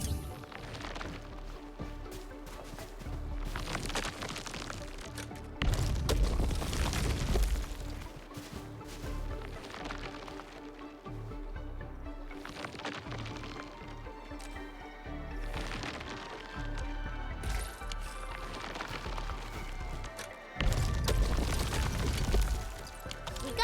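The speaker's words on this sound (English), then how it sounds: "I say it's time to shred some Originium ore to powder." Originium ore being shredded to powder in the Arknights Endfield game, heard as repeated loud crunching, grinding bursts with mechanical clatter over a steady machine hum, swelling and fading in several waves.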